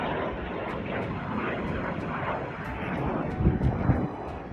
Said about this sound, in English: Residents of Crimea filmed the flight of the Storm Shadow cruise missiles.